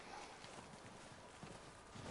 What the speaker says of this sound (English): They're coming down with the horses.